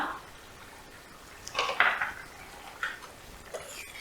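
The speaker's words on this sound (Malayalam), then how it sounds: "ഇതൊന്ന് ഇളക്കി ഇളക്കി കൊടുക്കാം" A spoon stirring okra and onion curry in a pan, making a few clinks and scrapes against the metal that cluster in the middle of a quiet stretch, close by.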